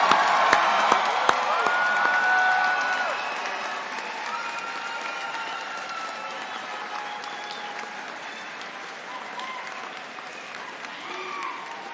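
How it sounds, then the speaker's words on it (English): Applause from an audience at an art and design college commencement ceremony forms a dense, steady clapping wash that fades slowly, with scattered cheers and faint voices mixed in. "Please applaud your parents, friends, family, and faculty."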